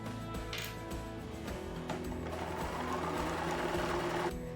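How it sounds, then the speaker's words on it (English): Sewing machine running a straight stitch along a seam on a pair of shorts: a steady, close mechanical whirring with rapid ticking from the needle, continuous throughout and with no talking. "Using a straight stitch, sew with a 3/8 inch seam allowance."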